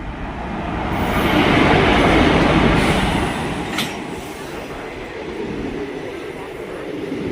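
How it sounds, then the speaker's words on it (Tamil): Ananthapuri SF Express train rolling slowly, a broad steady rumble of wheels and carriage noise that swells in the first seconds and then holds at a moderate level, with a brief faint squeal midway. "நம்ம ட்ரெயின் தான் பொறுமையாக போய்கிட்டு இருக்கோம் நம்ம."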